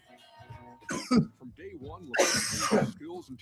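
A person coughs and clears their throat in a few rough, loud bursts, mixed with vocal sounds at an indoor live-stream party.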